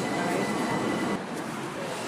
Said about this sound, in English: The train now approaching Platform 1 is the 10:17 Southern service to London Victoria.